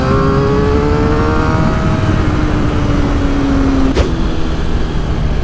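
Suzuki GSX-R 750 Yoshimura edition 2012 motorcycle pulling hard through the revs, a loud continuous engine whine with rising pitch, a quick shift, then climbing again under heavy wind noise.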